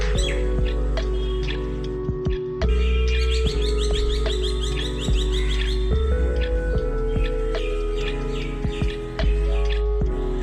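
Birds chirping around 7 in the morning amid flowering surroundings by a busy road, a steady stream of bright tweets over a constant low hum of traffic, with no talk.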